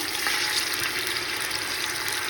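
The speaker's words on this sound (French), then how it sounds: "je vais mettre de l'eau" Water poured into a fennel and pea tagine, a steady close rush of liquid with no pauses.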